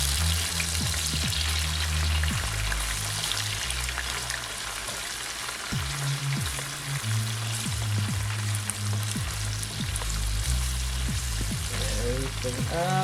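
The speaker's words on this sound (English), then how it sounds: "So get all your peppers in there, all your peppers. Making sure you get all your peppers. And you're gonna stir that up in here." Peppers for a curry lamb stew sizzle steadily in a hot pan while being stirred, with repeated scraping knocks of the spoon against the pan under a constant frying hiss; a voice speaks faintly now and then.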